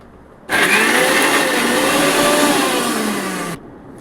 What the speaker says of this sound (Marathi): लसूण दोन तीन मिरच्या बघा किती हे जरा तिखट मिरच्या आहे आणि अद्रक असं आपण हे थोडं जाडसर वाटून घ्यायचं आहे